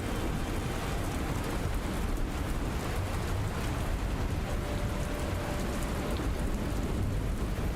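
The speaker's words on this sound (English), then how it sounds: "I can't get over how much rain is coming down." Heavy rain pours down in the video game Dustland Delivery, a dense, steady, close-sounding downpour lasting throughout, with a low rumble of thunder mixed in underneath.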